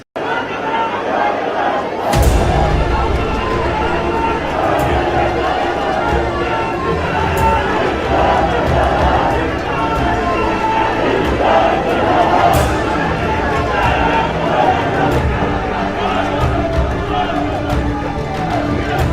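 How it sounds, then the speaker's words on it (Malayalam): A huge crowd roars and chatters at a Kerala political rally for Chief Minister Pinarayi Vijayan, a dense, loud, continuous din of voices and cheering that swells sharply after a couple of seconds and stays constant. "ആർത്തിരമ്പുന്ന ജനക്കൂട്ടം, കാച്ചിക്കുറിക്കുള്ള പ്രസംഗം, ആവേശം."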